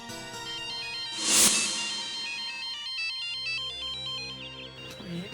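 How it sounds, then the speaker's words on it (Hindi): Mobile phone ringtone playing a repeating electronic melody indoors in a house, moderately loud and continuous, with a brief noisy burst early on. "ये तो मैडम की रिंगटोन है।"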